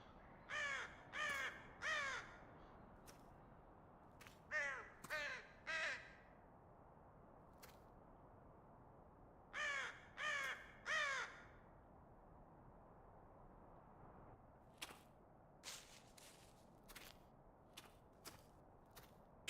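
Crows in The Cursed Forest video game give bursts of loud, harsh caws in groups of three or four, separated by quiet gaps and followed by scattered sharp clicks and faint taps.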